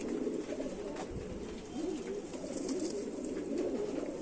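Indian Rampuri pigeons cooing close by in a steady, continuous murmur of overlapping low, rolling coos, with no talk over them.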